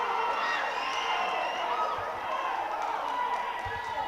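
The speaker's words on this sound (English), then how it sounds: "Listen to the crowd." Darts crowd cheering and whooping at a PDC World Championship Qualifiers match, a dense, steady roar of voices and shouts from a large arena audience throughout, with no clear single speaker.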